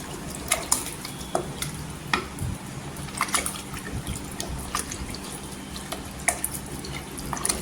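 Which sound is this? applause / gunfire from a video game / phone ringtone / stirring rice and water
stirring rice and water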